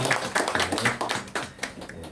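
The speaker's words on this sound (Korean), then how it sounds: "우리 박수로 환영해 주시기 바랍니다" Scattered hand clapping from a church congregation welcoming a new member, a loose run of separate claps of uneven rhythm, moderately close and fairly soft.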